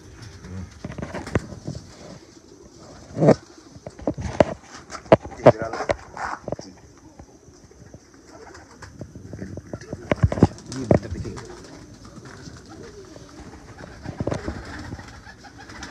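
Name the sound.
pigeons cooing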